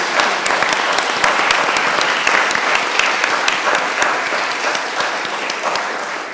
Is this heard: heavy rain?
no